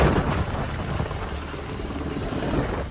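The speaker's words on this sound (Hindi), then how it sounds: "3 अपाचे हेलीकॉप्टर गाजियाबाद के इंडियन एयरबेस पर गरजते हुए उतरे" Apache military helicopters landing at the Indian Air Force base in Ghaziabad: a steady, loud rotor and engine roar with a dense low rumble that holds continuously throughout.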